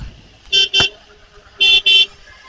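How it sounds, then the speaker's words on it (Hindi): Car horns honk in city road traffic in Rajkot, India: two pairs of short, loud toots over a low hum of passing vehicles. "भाई तो राजकोट आ गया, देख लो ट्रैफिक,"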